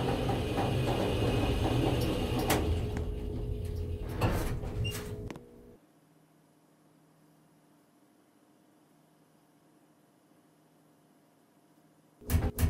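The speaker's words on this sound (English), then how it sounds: "Doors are opening." Elevator doors opening in a Roblox mini elevator ride, a loud sliding rush with clunks over about five seconds that cuts to near silence, then a brief burst of sound returns at the end.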